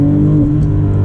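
Loud, close engine of a Porsche 996 GT2, a rear-engined car, accelerating with a strong steady tone that shifts partway through, alone without voices.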